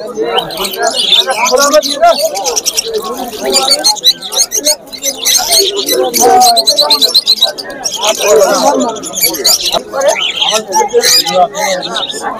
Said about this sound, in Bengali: এখানে প্রচুর পরিমাণে লাভবার্ডও রয়েছে